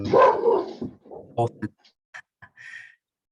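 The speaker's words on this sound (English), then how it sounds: "guess your dog doesn't like that word, Paul" A pet dog barks and yips in the background of an online talk, a few short sharp yelps and a whimpering note scattered over a couple of seconds after a burst of speech.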